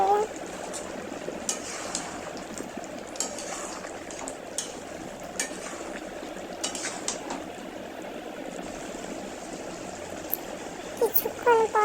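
A pot of water bubbles at a steady boil while fried lentil dumplings are stirred in, a spoon scraping and clinking against the pan throughout, with talking over the cooking.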